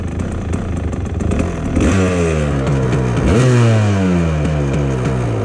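A rich-running 2-stroke engine coughs, catches and starts, then revs up and down under bursts of throttle, loud and close with a rattly, buzzing tone.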